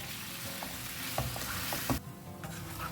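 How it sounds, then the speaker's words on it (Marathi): Chicken sausages fry in a pan over a medium flame with a dense, steady sizzle and a few soft clinks, briefly dipping before resuming. "ओके एक 15 मिनटांनी आमकां मिडियम फ्लेमार न्ही हे बरें फ्राय करून घेवंक जाय."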